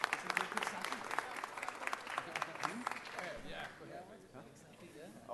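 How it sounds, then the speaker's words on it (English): Audience applause breaks out at a city council meeting, a burst of many hands clapping that holds for a few seconds and then thins out to scattered claps, with voices talking over it. "Let's give them a big round of applause"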